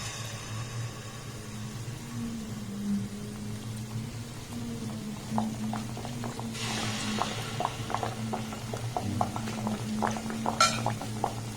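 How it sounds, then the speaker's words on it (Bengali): A ladle of malpua batter made from semolina and flour is poured into medium-hot oil in a kadai, giving soft crackling and sizzling over a low hum, with a brief louder hiss midway. "এবার দেখুন 1 হাতা করে ব্যাটার এর মধ্যে আমি দিয়ে দেবো।"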